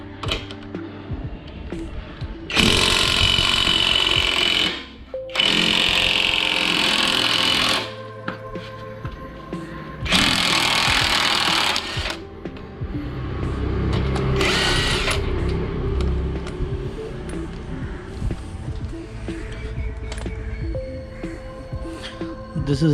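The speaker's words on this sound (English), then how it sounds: "Now take a 30mm socket. This is a 30mm impact socket. Take the center bolt off." An impact wrench with a 30mm impact socket removes the rear hub center bolt on a Ford Figo in four loud, harsh rattling bursts of a few seconds each, separated by pauses, then fades into lighter handling noise.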